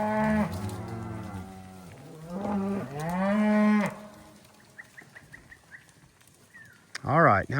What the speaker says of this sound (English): Cows are gonna be happy in there.